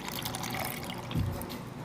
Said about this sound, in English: we're going to take our concoction, which was the lime peel and orange peel juiced, and we're going to pour it inside the cup